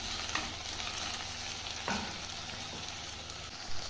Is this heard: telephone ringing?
no